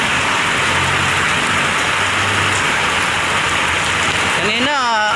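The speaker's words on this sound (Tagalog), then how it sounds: "lakas na ng ulan." Heavy rain pours down at a roadside gas station, a dense, steady hiss that fills the scene throughout, with a brief tonal sweep near the end.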